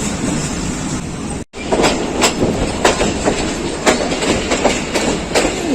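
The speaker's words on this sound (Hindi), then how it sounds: "स्लो स्पीड में क्रॉस कर रही है" A Pakistan Railways passenger train rolls slowly past nearby through a junction railway yard, its wheels clacking over rail joints in an irregular rhythm above a steady rumble.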